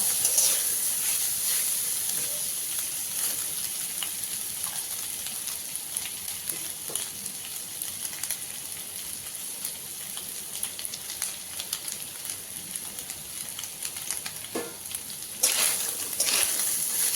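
Grated coconut is lightly fried in a pan for pumpkin chhakka, giving a steady, soft hiss with scattered faint clicks of stirring and a brief sharper burst near the end.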